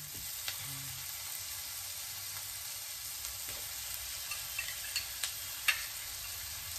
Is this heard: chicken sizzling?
yes